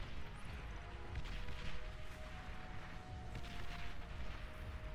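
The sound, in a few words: artillery fire in the video game Beyond All Reason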